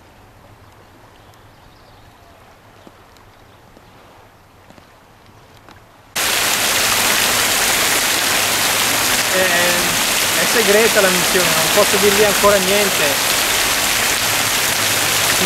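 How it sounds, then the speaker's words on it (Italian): Heavy rushing water, like a downpour or waterfall, bursts in suddenly after a quiet stretch and keeps up a loud, dense roar, with a voice speaking faintly underneath. "è solo acqua. È ancora acqua."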